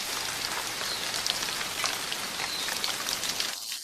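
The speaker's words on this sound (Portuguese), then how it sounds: "Quase todas as tardes trazem chuva, tornando este topo de montanha um dos lugares mais úmidos da Terra." Afternoon rain falls on a mountaintop in the middle of the world's largest ocean, one of the wettest places on Earth. A steady, dense patter and hiss of raindrops holds throughout, then drops away abruptly near the end.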